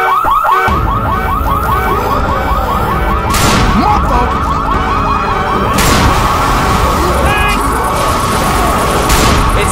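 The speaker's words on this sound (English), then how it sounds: "Alarms everywhere, people." A car alarm blares in the zombie shooter Left 4 Dead 2 during a Tank attack on The Parish, its rising, warbling cycles repeating loudly and steadily throughout, with crashes and game noise layered underneath.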